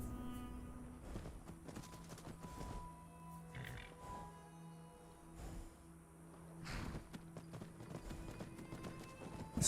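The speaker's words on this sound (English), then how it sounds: "There's horses." Horses in the Skyrim game world, near Stony Creek Cave, clop their hooves in soft, scattered steps under a low, droning game ambience.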